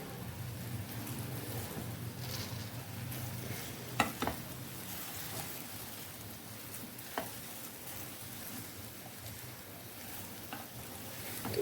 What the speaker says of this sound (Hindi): और इसे अच्छे से हम फ्राई होने देंगे